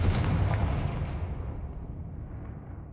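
A Confringo fire spell in Hogwarts Legacy goes off as a single muffled booming explosion that trails away into a dull rumble, heard alone.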